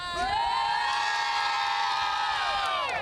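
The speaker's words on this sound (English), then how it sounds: "let's see if we can get some people cheering out here, right?" An outdoor crowd waiting in line before a Tennessee Titans game cheers loudly, with sustained shouts, high whoops and rising and falling voices blending into one continuous roar close by.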